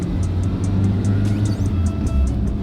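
A cheap used Toyota van with a 5-speed manual, its engine revving up from inside the cab, a loud low rumble with a rhythmic ticking above it.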